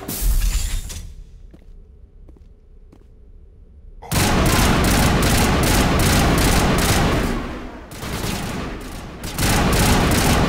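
Gunfire in the video game Mass Effect: dense, loud bursts of rapid shots and explosive blasts after a quieter stretch with a few faint clicks, continuing almost unbroken with a short lull near the end.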